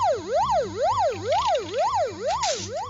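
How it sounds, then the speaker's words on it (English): A loud electronic security camera siren by a backyard chicken coop wails up and down in rapid, regular sweeps, repeating about five times over a low steady hum. "And a siren too."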